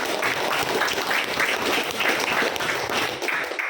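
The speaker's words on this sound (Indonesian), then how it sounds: "Tepuk tangan buat Sofwan dan Jeffrey." Classroom applause from schoolchildren, a dense burst of fast overlapping clapping lasting a few seconds, close and fairly loud with no talking.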